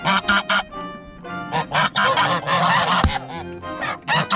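Several geese honk loudly and repeatedly in front of a chicken coop, harsh overlapping calls in rapid bursts close by, with a sharp knock partway through.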